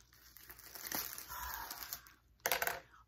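Packaging being pulled and torn open by hand, faint crinkling and rustling that ends in a louder, sharper rip.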